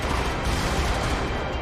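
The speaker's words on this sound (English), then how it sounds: "These cannons are burst fire." Burst-fire cannons shooting in the video game Brigador, a dense, loud stretch of rapid booming shots packed tightly together with no pause, close and heavy, with no talking.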